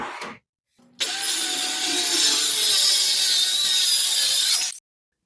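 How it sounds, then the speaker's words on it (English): Table saw cutting box joints into wooden boards: a loud, steady whine of blade through wood lasting several seconds, with a short gap and start-up at the beginning and an abrupt stop. "here I'm cutting the box joints on a table saw"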